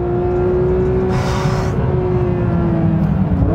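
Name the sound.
Porsche 911 GT3 driving fast on a race track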